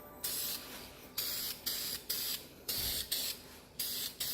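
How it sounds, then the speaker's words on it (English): Spray can laying a second, medium coat of gloss black paint onto Enkei RPF1 alloy wheels, in regular short hissing bursts of about half a second each, eight in a row with brief gaps, close and fairly quiet. "We'll spray on the next coat."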